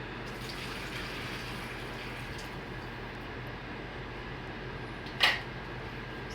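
Four cups of hot liquid pour into a pot for tamale-making, a steady continuous splashing stream at moderate loudness, broken by one brief clink near the end.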